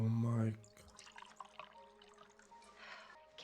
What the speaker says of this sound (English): Here, let me pour another one